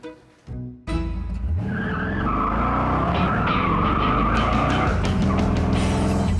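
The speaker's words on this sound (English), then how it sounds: "I gotta admit, I love driving this Roadster." A Roadster convertible drives up: after a brief quiet, its engine roars in loud and close, with tires squealing and a steady growl that holds to the end, and no one talking.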